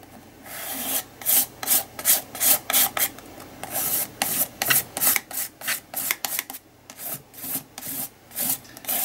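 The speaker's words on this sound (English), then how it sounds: "I'm going to dip my spatula in the white paint and then just scrape" Spatula scraping white gesso paint across a surface, a rapid run of short rasping strokes in an uneven rhythm with brief pauses, close and fairly loud with no talk.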